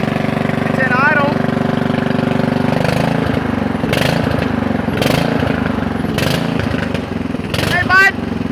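A Pro Stock racing lawn mower engine idles steadily with a low, even drone throughout, while people talk over it and a few short sharp clicks cut through.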